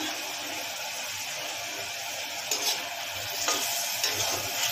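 Spice masala frying in a pan gives a steady, bright sizzle throughout, with a few soft stirring scrapes in the second half.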